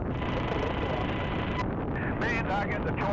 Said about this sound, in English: So what you're hearing is two different planes.